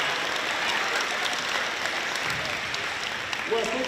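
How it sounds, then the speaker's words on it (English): An audience at a middle school MLK Day assembly claps steadily, a continuous wash of applause at moderate level with faint voices mixed in near the end. "Clap it up."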